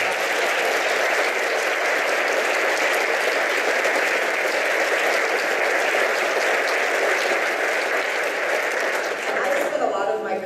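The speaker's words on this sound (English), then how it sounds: "let's please give a round of applause" Sustained, dense applause from a large audience at a leadership summit, loud and steady throughout before tapering slightly at the very end.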